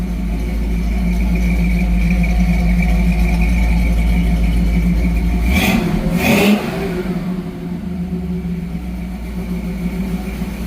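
A 1969 Camaro engine idles steadily with a deep, even rumble, then gives a quick rev before settling back to a smooth idle, close by.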